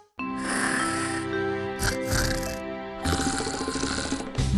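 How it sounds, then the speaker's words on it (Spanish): A person snores loudly and close in a snoring spray advert, with long rasping breaths broken by short pauses and snorts over a music-like tonal background. "ayuda a disminuir las vibraciones que provocan los ronquidos"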